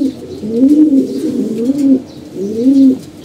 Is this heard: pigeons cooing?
yes